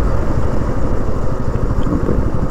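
A motorcycle engine droning steadily while riding on a road with low tyre pressure, loud and close with a constant low rumble and wind noise, no talking.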